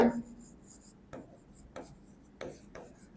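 Pen writing on paper during an accounting lesson on capital and revenue expenditure, a few short scratchy strokes in bursts, close and fairly quiet, with no one talking.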